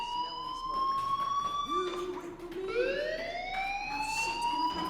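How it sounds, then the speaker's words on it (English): Fire alarm sounding in the video game Life Is Strange Remastered: a steady electronic wail with rising and falling pitch sweeps that runs without a break, heard alone without talk. "Hey, do you hear that fire alarm?"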